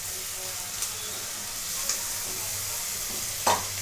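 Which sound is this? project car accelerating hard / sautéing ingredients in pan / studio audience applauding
sautéing ingredients in pan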